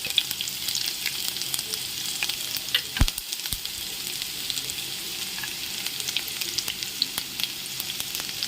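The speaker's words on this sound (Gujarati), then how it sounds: "તમે જોઈ શકો છો આપણું તેલ ગરમ થઈ ગયું છે. આપણે એમાં મરચાં નાખી દઈશું." Green chillies and garlic cloves sizzle in hot oil for a samosa filling, a steady crackling hiss that runs throughout with a couple of sharp clicks partway through and no talking.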